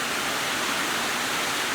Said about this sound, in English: It's blowing my mind how loud this rain is on this metal roof right now.